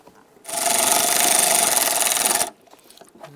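A power screwdriver whirs steadily for about two seconds, driving a screw that holds a washer reservoir to the fender of a 1995-2001 Ford, close and loud, with quiet handling noise before and after.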